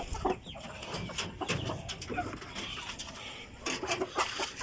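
White Kelso gamefowl chickens cluck in scattered soft bursts after feeding, fairly quiet and close, with faint background noise between calls.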